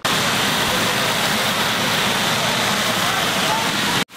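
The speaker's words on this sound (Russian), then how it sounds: "Понравилось, как пена там льется, там вода." Water jets and foam pour out in a steady, loud, hissing rush during a fire brigade demonstration in Abakan, with voices faintly beneath, then stop abruptly at the end.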